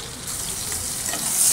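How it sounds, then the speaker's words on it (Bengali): Pointed gourd (potol) fries with turmeric in hot oil, giving a dense, close sizzling hiss that grows slightly louder toward the end. "হলুদ দিয়ে পটলগুলো একটু ভাজা ভাজা হোক"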